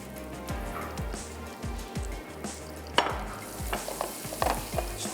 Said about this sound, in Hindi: और ये मसाला हमने अच्छा सा भून लेना है ऑयल में।